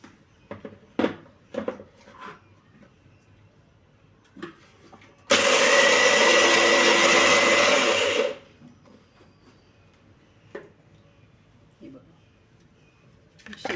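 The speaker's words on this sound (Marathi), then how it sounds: "आता शेंगदाण्याचं कूट करून घेते" A mixer grinder whirs loudly for about three seconds in the middle while roasted peanuts are ground into powder, starting and stopping abruptly, with quieter kitchen clatter and talk before and after.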